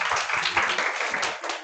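Audience at a Korean business group meeting clapping to welcome a presenter, a dense, steady burst of applause filling the room throughout, with no talk over it.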